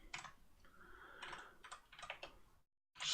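Quick bursts of close computer keyboard typing while coding in F#, irregular clusters of soft key clicks with short pauses between them, quiet and unaccompanied by speech, ending in a brief silence before a final click.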